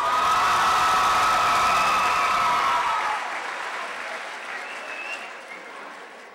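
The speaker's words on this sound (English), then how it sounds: "Let's hear it for Coach Matthews." A crowd applauding and cheering steadily at a high school anniversary ceremony, loud and sustained, then easing off and thinning out toward the end.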